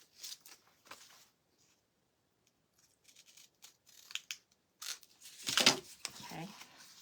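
Scissors snipping craft material in a few short, scattered cuts, close and fairly quiet, with crinkling and handling noises between them.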